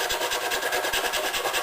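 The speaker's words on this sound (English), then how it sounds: "This is called cross sanding." An NES console case is cross sanded by hand, a steady rhythmic rasp of abrasive strokes on plastic repeating about every fifth of a second, close and fairly quiet with no talking.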